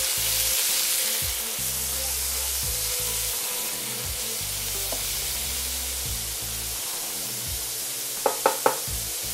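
Beef for Thai beef fries in a hot pan with a loud, steady sizzle and crackle, a few sharp utensil knocks near the end and no talking.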